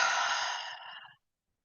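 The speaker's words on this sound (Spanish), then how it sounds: "sueltas el aire" A long, breathy exhale released slowly during a guided breathing exercise for elders, close and soft, tapering off into silence after about a second.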